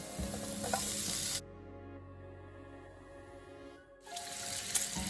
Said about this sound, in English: Once the pan is hot, we're going to add the garlic that we chopped up as well as the bacon.